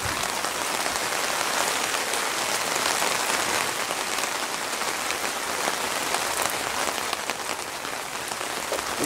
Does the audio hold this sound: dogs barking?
no